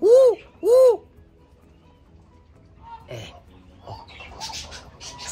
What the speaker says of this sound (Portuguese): O Turaco tá querendo cantar ali atrás.